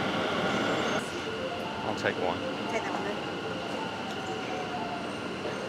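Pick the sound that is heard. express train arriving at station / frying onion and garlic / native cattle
express train arriving at station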